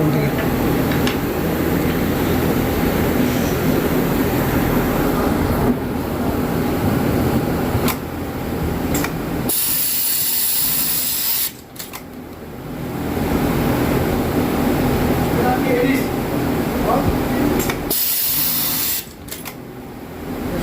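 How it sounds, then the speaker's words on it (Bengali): A Pegasus W600 flatlock sewing machine runs at steady speed with its thread trimmer cutting, a loud continuous motor whir broken by a few short pauses and sharp trimming clicks, with no talk. "এখন আমরা ট্রিমিং করে দেখবো যে আমাদের মেশিনের ট্রিমিং হয় কি না"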